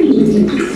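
A pigeon coos close by, a low throaty burbling call that rolls on steadily, with a faint higher chirp near the end.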